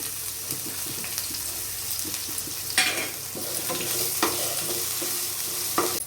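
Mustard seeds and urad dal crackle and sizzle in hot oil, a steady frying hiss broken by sharp pops and the scrape of stirring.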